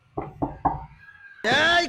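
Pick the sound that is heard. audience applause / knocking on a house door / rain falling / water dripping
knocking on a house door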